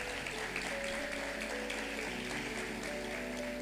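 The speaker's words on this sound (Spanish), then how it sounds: "le damos un fuerte aplauso al Señor" Church congregation applauding during a Spanish-language sermon, a continuous even patter of clapping that holds steady for several seconds at a moderate level, with sustained instrumental tones running beneath it.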